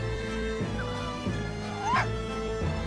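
A dog in the video game Professor Layton vs Phoenix Wright gives a short yipping bark over looping game music with soft chimes.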